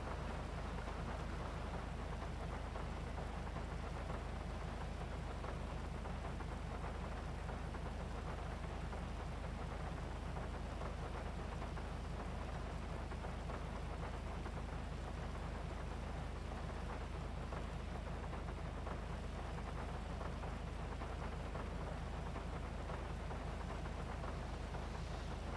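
Steady, dense rain falls in Grand Theft Auto V, a constant hiss with scattered drops and a low rumble underneath, continuous and fairly loud throughout with no voices.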